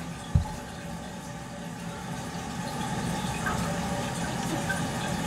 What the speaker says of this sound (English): so we just turn the water back on